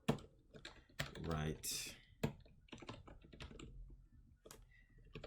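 Computer keyboard typed on while writing code, irregular bursts of crisp key clicks and clacks, close and fairly loud, with a person speaking between and over the keystrokes.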